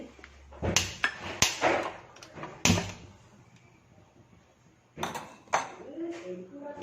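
A small pan is set onto the stove with a few sharp metallic clanks and knocks, loud and close, between gaps of quieter kitchen background.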